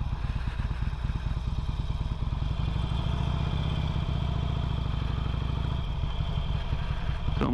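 A 2008 Harley-Davidson Sportster 883L ridden through slow U-turns, its engine giving a steady, close, low-pitched throbbing rumble throughout with slight swells in revs.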